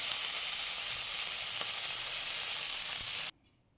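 Ginger, garlic, onion and tomato masala with cumin paste sizzling loudly and steadily in a pan as it is stirred, close up, with one faint utensil tap before the sound stops abruptly.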